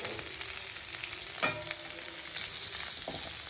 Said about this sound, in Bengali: আলুগুলো প্রথমে সাঁতরিয়ে দিচ্ছি